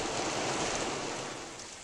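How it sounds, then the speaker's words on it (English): Heavy downpour on the Appalachian Trail in Shenandoah, a broad, steady wash of rain noise, moderately loud and constant, easing slightly toward the end. "It is a downpour, thunder and lightning."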